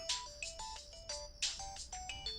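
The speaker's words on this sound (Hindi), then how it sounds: "किसका फोन आ रहा है यार?" A mobile phone ringtone plays a quick electronic melody of short bright tones in repeating phrases, moderately loud and close, with no voices over it.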